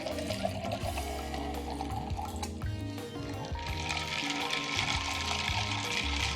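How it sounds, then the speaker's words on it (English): Chilled water pours into a jamun cooler made with lemon juice and black pepper, a soft, continuous liquid trickle running faintly under background music. "let's add in some chilled water"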